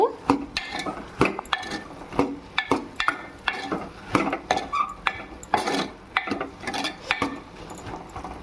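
A ladle stirs bottle gourd curry, sorakaya pulusu, in a pot, giving repeated close scraping and knocking strokes in an uneven rhythm that runs steadily throughout.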